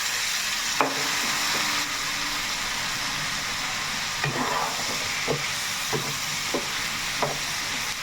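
Chicken joint fry masala sizzles steadily in a pan with a little water added, with a few scraping stirs breaking through the constant crackle.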